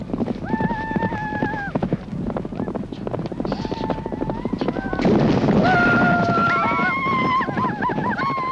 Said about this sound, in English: Mongolian horse racing is certainly exciting.